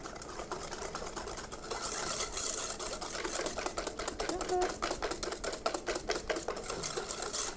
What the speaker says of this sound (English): So just for about a minute, mix it up really, really well.